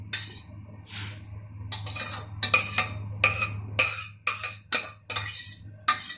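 Boiled yellow peas tipped into a bubbling masala mixture in a metal pot for beach-style sundal, with repeated clinks and scrapes of a spoon against the pot over a steady low simmer, no talking.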